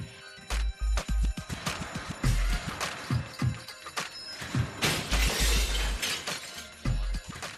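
A robber smashes his way out of a shop through glass, giving repeated loud crashing and shattering hits with glass debris clinking throughout, in a security-camera scene.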